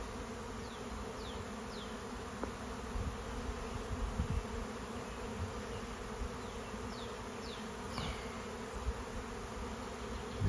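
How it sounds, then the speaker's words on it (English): A honeybee swarm moving into a hive, a steady dense buzzing drone of many bees close by, with individual bees zipping past now and then. "The bees are the whole swarm is moving in."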